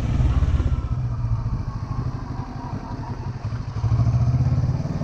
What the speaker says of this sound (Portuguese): Fazendo as curvas tranquilamente. A moto tá na mão e sem esforço nenhum para manter ela equilibrada.